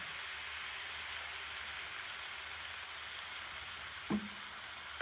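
Turmeric frying in a pan, a steady soft sizzle throughout, broken near the end by a brief sharp splash as khar is added.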